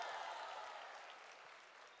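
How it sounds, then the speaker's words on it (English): Audience applause in a business conference hall, a soft, distant spread of clapping that slowly tapers off. "wipes get the biggest applause for some reason"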